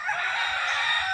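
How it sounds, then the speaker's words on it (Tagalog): A free-range rooster crows loudly and steadily at close range, a single sustained call with no talk over it. "So nandito pala yung iba natin mga manok."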